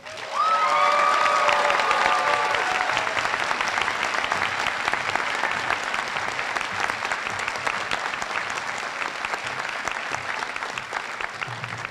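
A large graduation crowd at the Greeley-Evans School District 6 ceremony applauds and cheers the class of 2026. Dense, loud, continuous clapping runs throughout, with a brief burst of whistling near the start.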